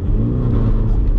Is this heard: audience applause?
no